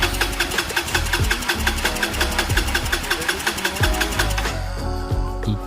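A Honda Fusion scooter engine cranks over rapidly with the throttle held wide open during a compression test, producing a loud, even chugging rhythm that cuts off near the end.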